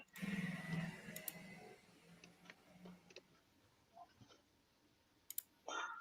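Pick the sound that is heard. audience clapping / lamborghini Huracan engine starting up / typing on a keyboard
typing on a keyboard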